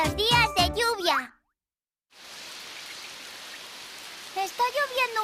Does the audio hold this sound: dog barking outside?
no